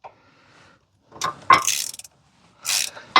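A wrench ratchets and clicks while breaking loose the nut on a Scag mower's hydro idler pulley, in short bursts of clicking with a sharp crack and metallic clatter between quiet gaps.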